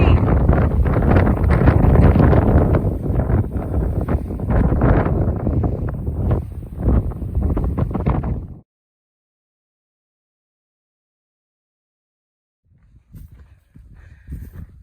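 Strong wind buffets the microphone on a hiking trail along the Guadalupe Ridge, a loud, continuous roar for about eight seconds that cuts to silence, then faint gusts return near the end.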